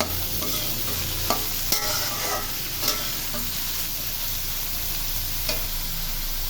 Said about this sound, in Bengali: ঝিঙে পেঁয়াজে এবার সেটা নাড়াচাড়া করে দিব যাতে পেঁয়াজটা না পুড়ে যায়।